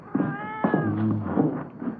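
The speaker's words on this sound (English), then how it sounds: "She had the cat." A cat in a house hallway meows several times, drawn-out wailing cries close by, with a few short background sounds between them.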